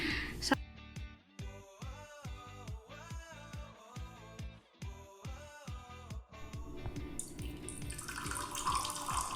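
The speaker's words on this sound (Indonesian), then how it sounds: "Dapat dilihat bahwa air terus kita tambahkan untuk menjaga agar level air tetap berada pada marker hitam." Water poured from above into a container for a Bernoulli equation physics experiment, a soft running splash that swells into a steady, louder rush near the end, heard under background music.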